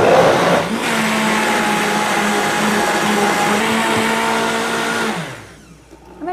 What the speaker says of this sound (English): Throw it in here and blend it.